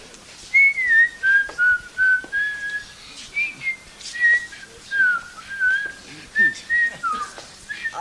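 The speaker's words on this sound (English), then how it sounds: "Are you going to whistle us something" A man whistles a lilting tune in short melodic phrases, clear and close with steady pauses between them, in a quiet indoor room.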